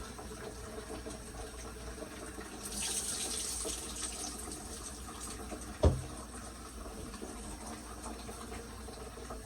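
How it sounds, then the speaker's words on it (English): Rice washed by hand in water, soft continuous sloshing and trickling with a faint swell in the middle and one sharp knock partway through, quiet and close with no talking. "wash until you get almost a clear water."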